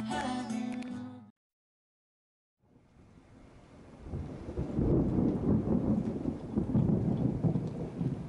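A huge storm cell over an outdoor rally, with a loud thunder rumble at the start, a brief silent gap, then heavy rain and rolling thunder building steadily and staying loud to the end.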